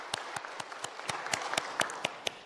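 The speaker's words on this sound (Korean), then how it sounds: "이 시간에 우리 다 같이 박수 한번 치도록 하겠습니다" Church congregation applauding during a Sunday service in Korea, a sparse, fairly quiet patter of individual claps at an uneven rhythm, about a dozen distinct hits.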